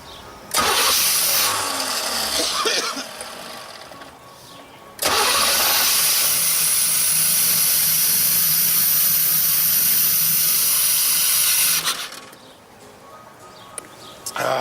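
A 1989 Pontiac Firebird Formula that had sat unused fires up, runs briefly and dies, then restarts with a loud, steady roar that holds for about seven seconds before shutting off, heard close up.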